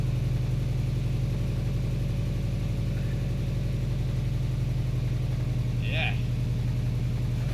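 A cold Impreza car engine idles loudly and steadily, a close, constant low rumble that fills the whole stretch, with a brief spoken word near the end.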